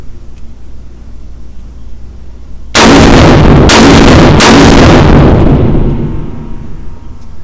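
A POF-USA Rogue 12.5 .308 pistol fires three fast, very loud shots in quick succession outdoors, and the last blast rings out and fades over a few seconds.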